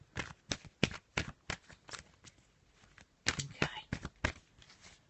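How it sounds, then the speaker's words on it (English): Oracle cards being shuffled by hand, a run of quick papery riffles in two bursts with a short pause between, close and fairly soft. "I'm just going to draw you a little oracle card for today as well"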